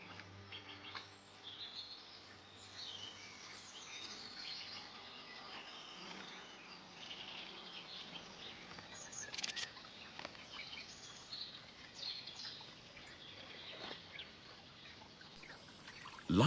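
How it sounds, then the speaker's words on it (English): Great tits and other small birds chirp and tweet by clear spring pools in a Mediterranean forest, with steady overlapping calls over a soft trickle of water and insect buzz throughout, moderately faint and without voices. "the birds are more active. Even these great tits are ready for some fun."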